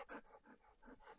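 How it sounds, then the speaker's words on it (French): A dog pants or whines for attention in a quick run of soft, rhythmic breathy pulses, faint and close, with no one talking. "le chien m'appelle"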